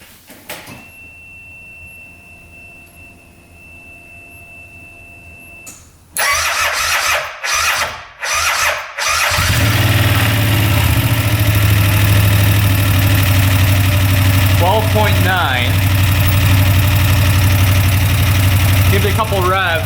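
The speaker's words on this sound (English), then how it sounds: "Let's see what happens when we crank it over." A used UTV engine is cranked over, sputters through a few starter bursts and catches, then settles into a steady, loud idle close by. A voice briefly speaks over the running engine.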